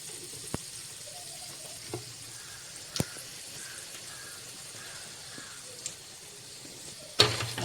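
Chana dal and urad dal with cumin fry in oil for lemon rice, a soft, quiet sizzle punctuated by a few sharp isolated clicks and pops, ending with a louder burst of crackling.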